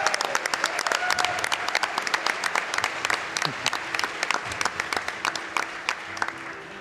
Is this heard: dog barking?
no